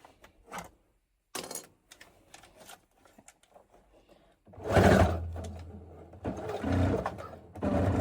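A sewing machine stitches a tote bag in short, loud, rapid bursts separated by pauses, with handling clicks and thumps between runs.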